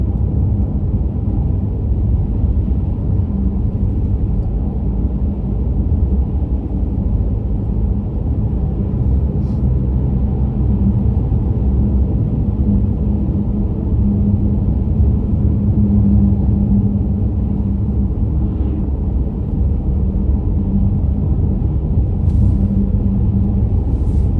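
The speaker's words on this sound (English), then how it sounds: "To the car noise with all the snow on the ground" A car drives along a snowy, icy winter road after a snowstorm, heard from inside as a loud, steady low rumble of engine and road noise that continues without a break and with no voices.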